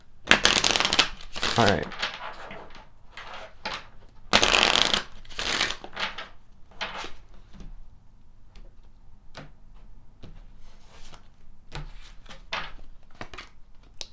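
Kipper cards being shuffled in two loud riffling bursts, then quieter handling clicks and taps, with a brief spoken word in between.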